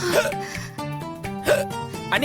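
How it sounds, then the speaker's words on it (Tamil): A woman hiccups several times in quick succession, sharp voiced gulps close up, mixed with brief speech. "ரொம்ப நேரமா விக்கல் வந்துட்டே இருக்கு."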